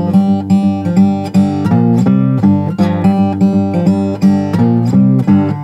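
An acoustic guitar plays a hill country blues riff in G at full tempo: driving, repetitive picked bass notes and plucked strings in a steady rhythm, loud and close, with no voice.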